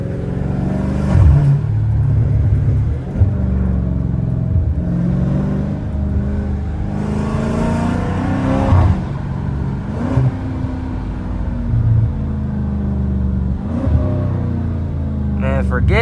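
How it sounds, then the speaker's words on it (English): A Dodge Challenger Scat Pack 392 on a late-night drive roars loudly as it accelerates, with repeated sharp dips and blips as it downshifts between gears, heard from inside the car. "Forget how the car sounds when I hit the gas, but y'all gotta really listen to the downshifts, bro."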